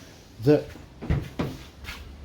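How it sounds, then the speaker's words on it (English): A 2022 Proton Saga ACE car door is opened, heard as a few close clunks and latch knocks in quick succession, with a voice speaking in between. "Look at how wide this door opens."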